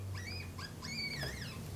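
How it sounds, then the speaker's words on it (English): Baby marmot in Colorado giving a fear scream: a series of faint, high, rising-and-falling squeals in short bursts, heard at a distance over a low background hum. "That's a baby marmot giving a fear scream."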